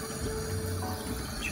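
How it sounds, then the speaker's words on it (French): Water running steadily from a sink tap at a kitchen sink, a constant, even rushing hiss heard up close with no pauses. "Je vais arrêter l'eau."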